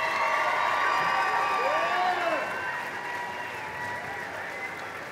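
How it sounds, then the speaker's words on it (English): Audience applause and cheering at a kindergarten graduation, a dense wash of clapping with scattered whoops and children's shouts that slowly eases off, heard from within the crowd. "Give them a round of applause."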